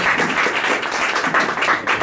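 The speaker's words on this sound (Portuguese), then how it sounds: "Aplauda bem forte ao Senhor Jesus" A church congregation applauds, many hands clapping in a dense, steady patter that fills the room for a couple of seconds.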